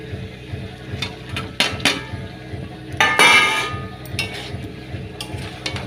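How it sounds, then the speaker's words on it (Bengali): Potatoes go into a pot of cooking chicken and are stirred, giving close metallic clinks and knocks of a utensil against the pot, with a louder clattering burst midway over a low cooking hiss. "আলুগুলো দিয়ে একটু নাড়তে থাকবো, এরপরে জল দেবো।"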